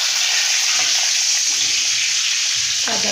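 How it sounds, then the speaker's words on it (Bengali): Whole cumin seeds, cardamom, cinnamon, clove, peppercorns and bay leaves sizzling in hot oil, a steady bright frying hiss up close, with a brief stir or clink near the end. "সাদা জিরা ফোড়নে দিয়ে দিলাম।"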